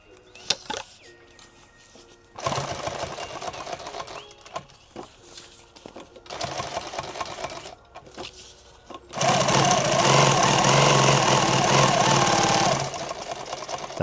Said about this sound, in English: that's what normal speed sewing and not slowing down to talk to the camera looks like